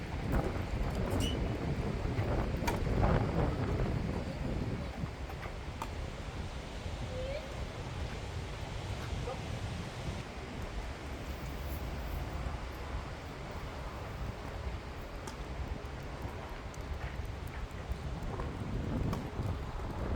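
Strong gusting wind buffets an outdoor tennis court during a second-round match at a tournament in Thuir, a steady broadband roar that rises and falls in loudness and sounds close to the microphone.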